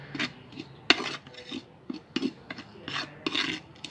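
Coffee grounds being mixed into the soil of a hibiscus plant pot, a series of gritty scraping and rasping strokes at an uneven pace, close and fairly quiet.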